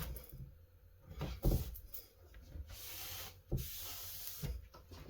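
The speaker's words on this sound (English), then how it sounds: "Microfiber cloth best for this, and then just rub it on to get your initial" A microfiber cloth is rubbed across a printed backscene on a 00 gauge model railway layout. The close, soft friction strokes come in uneven bursts with small knocks, and no one speaks.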